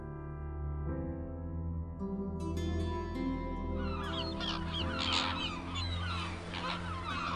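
Wintering flamingos near the Kanuni Sultan Süleyman Bridge in Istanbul give goose-like honking calls that start sparse and build into a dense flock chorus, heard over steady low background tones.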